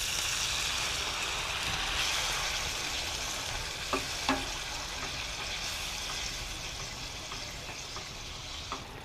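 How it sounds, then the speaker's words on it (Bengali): Masala in a pan for an Amliya fish curry, with water just added, gives a steady hissing sizzle with a few sharp spits and pops, close and continuous without any talk. "এইবার এর মধ্যে দিয়ে দিব পরিমাণ মতো জল"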